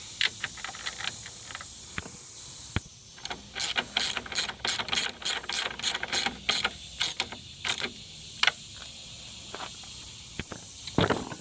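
Ratchet clicking in quick bursts as bolts are snugged up on a Chevy AC condenser during a repair, close and crisp, with short pauses between runs of rapid pawl clicks.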